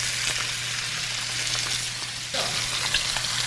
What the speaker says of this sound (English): we're just going to start cooking our bacon up